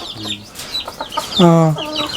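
About thirty chickens cluck and squawk close by in a shed, short calls overlapping with one longer, louder drawn-out cackle in the middle.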